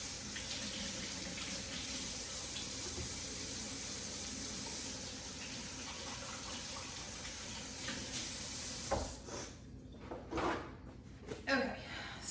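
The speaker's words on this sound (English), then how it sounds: "I'm gonna rinse my hands." Hands being rinsed under a running kitchen faucet, a steady rush of water that cuts off near the end, followed by a few clatters and handling sounds, with a voice talking over it.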